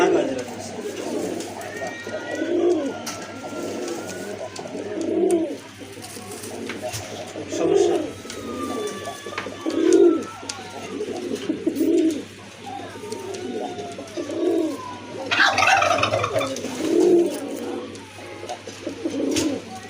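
A pair of large Rajgolla pigeons coos in a regular rhythm, deep booming coos repeating roughly every two seconds, close and clear, with a voice talking intermittently alongside.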